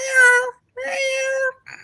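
A domestic cat meows loudly and close up, giving two drawn-out meows and then a short third one, with brief silences in between.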